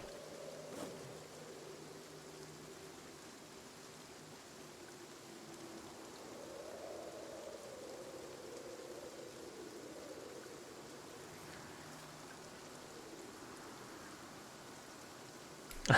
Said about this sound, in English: We actually have rain.